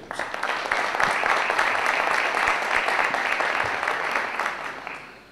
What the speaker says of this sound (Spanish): pido recibamos con el aplauso de todos los presentes